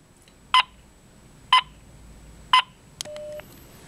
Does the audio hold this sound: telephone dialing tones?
yes